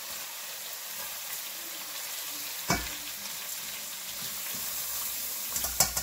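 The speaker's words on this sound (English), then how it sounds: "Get that sizzle going. Right now we got the temp on high." Rice fries in a pan on high heat, a steady bright sizzle that runs throughout, with a couple of sharper crackles and scraping stirs breaking through.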